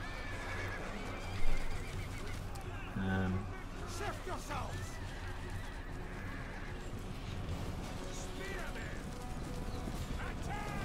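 Cavalry horses in a Thrones of Britannia video game battle, with whinnies and the clatter of hooves over a dense, continuous battle din and a voice talking throughout.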